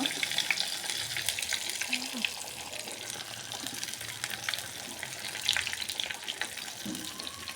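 Momos fry in mustard oil, giving a faint continuous crackling sizzle with scattered pops and small bursts throughout.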